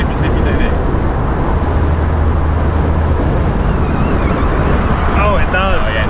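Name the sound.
wind noise driving a Mini Cooper S convertible with the top down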